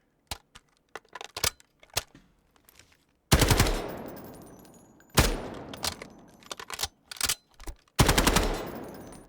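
Automatic rifle fire in the Delta Force video game: a few isolated shots and short clicks, then three loud sustained bursts at a steady rate of roughly 600 rounds per minute, each ringing out with a long echoing tail.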